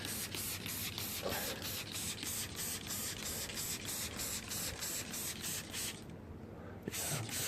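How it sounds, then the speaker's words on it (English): Soap cleaner is sprayed onto a car seat in a run of quick, regular hissing bursts, close and fairly quiet, with a short pause before the final sprays. "Okay, so I'm just going to spray the affected area mostly."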